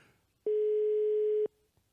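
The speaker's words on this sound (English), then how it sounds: "The dial tone on here is upside down." A steady telephone dial tone sounds clearly for about a second, starting and stopping abruptly, heard on a call to the Caribbean.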